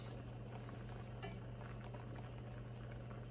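Thick cheese sauce for French onion mac and cheese bubbling steadily in a pot, a continuous close low simmer with small pops and no speech.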